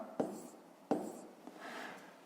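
A pen writes by hand on paper while working a grade-five maths exercise, two short scratchy strokes followed by a softer, longer stretch of scribbling, quiet and close.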